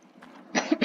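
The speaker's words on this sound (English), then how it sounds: "Coughs." A person coughs a few times in quick succession, close and fairly loud, with quieter rustling before it.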